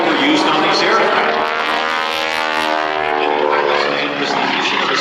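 A Boeing PT-17 Stearman Kaydet biplane trainer passes close overhead, its radial propeller engine droning loud and steady with a sweeping pitch shift as it flies by, a voice speaking faintly beneath.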